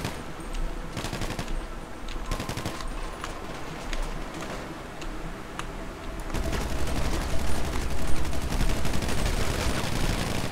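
Rapid bursts of automatic gunfire in GTA V, loud and dense, with clusters of shots early on giving way to heavier, sustained firing over the second half.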